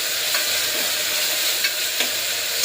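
Tempering spices sizzle in a hot pan with a constant bright hiss, while a few quick stirring scrapes sound over it, close and alone.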